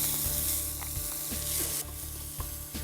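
Chopped tomatoes go into a pan of frying chopped garlic and ginger over lowered heat, raising a moderate hiss with several soft clicks and scrapes in a loose rhythm. Nobody speaks.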